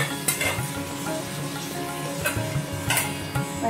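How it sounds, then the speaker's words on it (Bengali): Potatoes fry in a pan with a constant close sizzle, while a spatula scrapes and stirs in irregular strokes and an occasional sharper tap of metal on the pan rings out, with no speech. "আলু ভাজা বসিয়েছি।"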